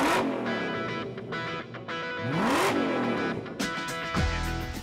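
A Ford GT sports car engine revs hard through several rising and falling sweeps, loud and close, ending in a deep throaty burble.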